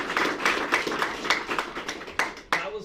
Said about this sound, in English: Let's give another round of applause for everyone that did that lightning round.